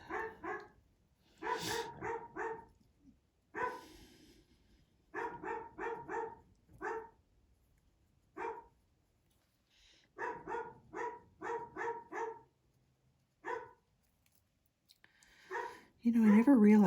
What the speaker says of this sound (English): he's barking constantly